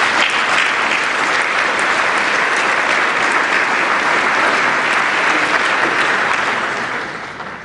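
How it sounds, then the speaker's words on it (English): Loud, sustained applause from a large crowd at a charity gala dinner, steady clapping throughout that tapers off at the end. "let's give him a big round of applause"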